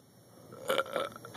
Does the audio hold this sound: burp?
yes